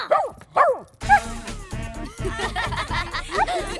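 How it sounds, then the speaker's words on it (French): An animated dancing dog barks in a few sharp yips at the start, then upbeat music with bouncy percussion takes over while the barking fades into the mix. "Donc, ce qu'il vous faut, c'est un chien qui danse."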